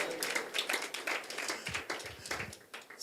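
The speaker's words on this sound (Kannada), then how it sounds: "ಒಂದು ಚಪ್ಪಾಳೆ ತಟ್ಟೋಣ." A church congregation claps during a sermon, producing soft, uneven bursts of hand claps that sound fairly quiet and somewhat distant, with scattered louder slaps.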